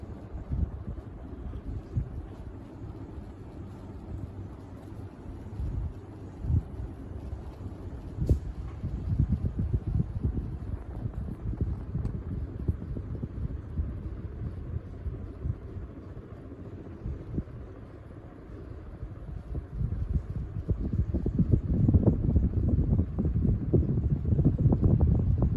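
A Seabreeze decorative residential ceiling fan runs with its top canopy loose and resting on the lower canopy, giving a steady, close broadband airy whoosh with low rumble that swells slightly toward the end, no voices.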